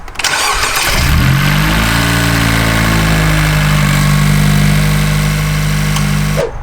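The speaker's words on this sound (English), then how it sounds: "we're going to go ahead and start up the car" A 10th-generation Honda Civic engine, just after an oil change, cranks briefly, catches and roars up, then settles into a loud, steady idle before cutting off abruptly.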